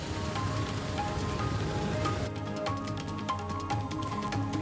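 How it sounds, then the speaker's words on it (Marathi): Heavy unseasonal rain pours down in a city, a dense continuous hiss with scattered drops pattering on surfaces, steady and close with no voices. "छत्रपती संभाजीनगराला पावसानं तडाखा दिलाय।"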